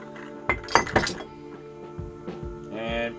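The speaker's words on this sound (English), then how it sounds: "Let's pour the first one into our infinity bottle." Glass clinks and clatters as Elijah Craig bourbon goes into a glass infinity bottle, with several bright knocks early on and then a short trickle of liquid, close and fairly loud.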